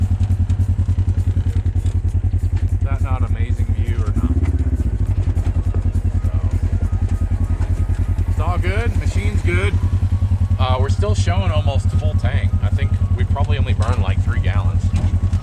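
A side-by-side off-road machine crawls along at idle in the Colorado mountains, its low engine thrumming steadily and loudly throughout while someone talks over it.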